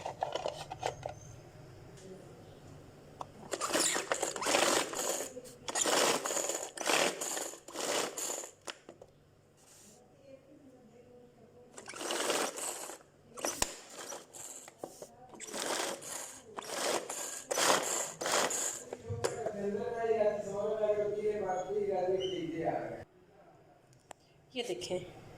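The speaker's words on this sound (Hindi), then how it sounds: "यहाँ पे मैंने चॉपर में प्याज और हरी मिर्ची डाली हैं, इसको मैं चॉप करके इसके अंदर डालूँगी" A hand-pulled kitchen chopper cuts onion and green chilies, making repeated rattling, whirring bursts in quick clusters separated by short pauses, loud and close. A voice is heard briefly near the end.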